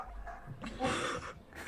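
A pet dog growls and whimpers in the background of a room, a short low grumble that rises into a brief strained whine, faint and close.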